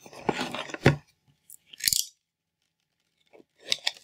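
Packaging on the box of an Inkbird IBT-4XS Bluetooth wireless BBQ thermometer being cut open: a few short, crisp snips and rustles in separate close bursts with quiet gaps between.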